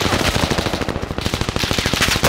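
Rapid automatic gunfire from a Cooper Carbine in an online shooter game, a dense, loud, continuous burst of evenly spaced shots running the whole stretch without pause.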